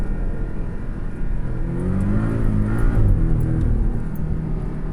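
A Porsche 718 Cayman S with its PDK dual-clutch gearbox downshifting into first, the engine note close and loud, rising and swelling in a brief rev before settling back under steady road noise.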